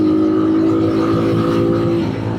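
A cheap street-legal 250cc dirt bike engine heard while riding, a loud, steady, droning hum held close throughout, easing slightly at the end.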